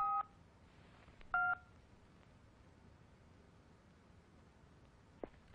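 A telephone keypad sounds two short dialing tone beeps in quick succession during a comedy film scene, followed by a faint click, all against a quiet background.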